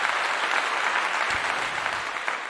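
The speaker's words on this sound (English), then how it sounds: "Clap to everybody that's in the house." An audience bursts into continuous applause, a dense wash of many hands clapping at once that holds steady and close for the whole stretch, with no voices over it.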